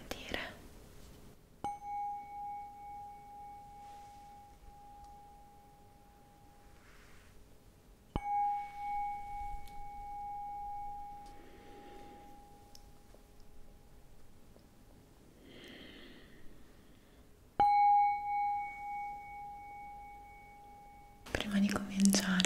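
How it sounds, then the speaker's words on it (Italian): A Tibetan singing bowl is struck three times, each strike ringing into a long, clear, sustained tone that slowly fades, with soft whispering in the quiet gaps between. "è questa campana tibetana."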